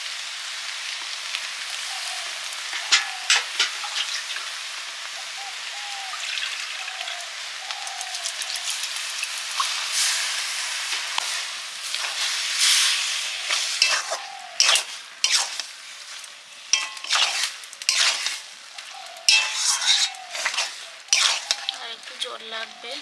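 Bottle gourd greens sizzle steadily in a pan as mustard paste goes in, a continuous close hiss broken by scraping and clattering stirring strokes that grow busier toward the end.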